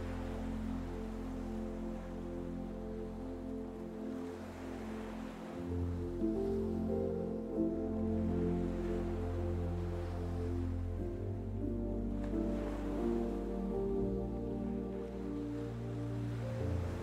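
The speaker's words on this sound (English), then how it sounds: "ocean waves crash, gentle and free" Ocean waves wash steadily onto a sandy shore in a continuous soft surge, blended under a gentle sustained musical tone bed.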